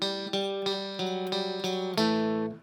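A short electric guitar phrase of picked single notes from a song, ending on a ringing two-note double stop that sustains and fades.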